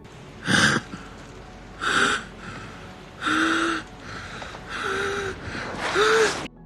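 Heavy, gasping breaths from an actor in a snowy film scene, five or six loud ragged inhales and exhales in steady rhythm, close and isolated, gradually turning softer.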